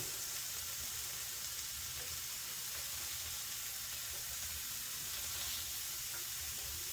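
Sliced ham warms in a hot frying pan, giving off a soft, continuous sizzle and crackle that stays fairly quiet and steady throughout, with no voices over it.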